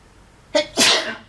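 A single sharp sneeze: a quick breathy intake burst followed by a louder, noisy explosive release, close and alone in a quiet room.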